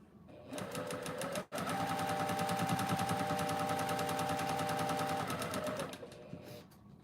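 A home sewing machine runs in a long steady burst with fast rhythmic stitching, pausing briefly near the start and then continuing at a constant, close, fairly loud pace before stopping.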